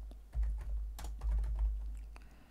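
Quiet typing on a computer keyboard, irregular clusters of soft key clicks with brief pauses between them, alone with no voices.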